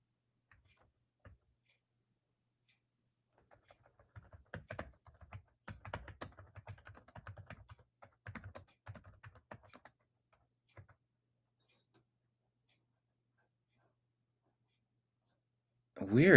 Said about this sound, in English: I'm typing in.